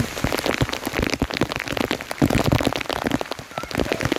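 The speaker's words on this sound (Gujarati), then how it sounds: "અત્યારે ધોધમાર વરસાદ ચાલુ છે" Heavy rain pours steadily in Nakhatrana, drumming densely on surfaces with constant crackling splashes and no pauses.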